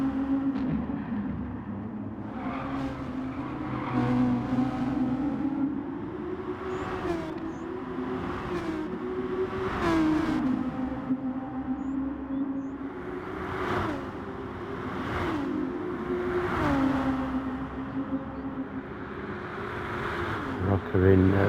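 Race cars in a sim racing game, one running in another's slipstream, with droning engines rising and falling through gear changes and passes while a commentator talks over them.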